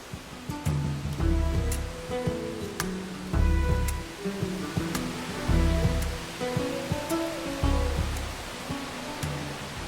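Rushing water of the three-tiered Takori waterfall near Pune roars steadily nearby, a broad continuous wash with rhythmic low thumps and swells beneath it.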